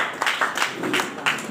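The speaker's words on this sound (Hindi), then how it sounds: "ताली की गड़गड़ाहट बिल्कुल बजते रहना चाहिए माय डियर फ्रेंड" Audience applause at an event honouring star ambassadors, a steady patter of many hands clapping with slight surges, moderately loud and unbroken.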